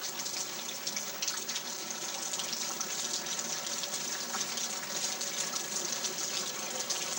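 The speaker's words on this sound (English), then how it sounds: "The water is flowing." Water rushes in a steady, continuous stream during Hurricane Charley in Fort Meade after a roof came off, a constant moderate-level gush with no voices.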